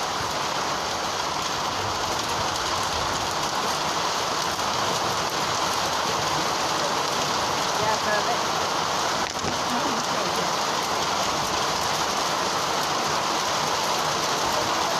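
Rain falls in a steady, even hiss that stays constant for the whole stretch, with no clear voices over it.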